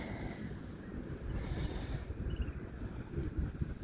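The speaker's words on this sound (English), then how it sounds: "It's pretty cold down here on the beach today. Not a whole, there's people running around out here, but it is a chilly wind blowing." Chilly wind blows across a cold beach, a steady low rumble of gusts buffeting the microphone, with faint surf-like wash underneath and no voices.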